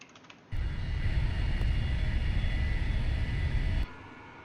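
Aircraft engines rise to a steady, broad roar as two planes begin a side-by-side formation takeoff in a flight simulator game, holding loud and constant for about three seconds before cutting off abruptly.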